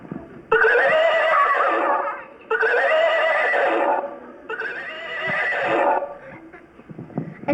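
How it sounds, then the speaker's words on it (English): Horse named Silver neighing as a radio play sound effect in a Lone Ranger episode: three loud, drawn-out whinnies in close succession, each rising and falling, followed by faint shuffling and clip-clop. "Suddenly, Silver stops and neighs."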